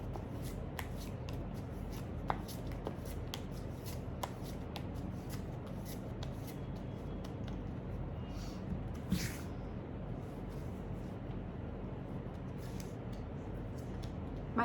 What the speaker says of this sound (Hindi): टिल द टाइम मैं आपके लिए कार्ड शफल कर रही हूँ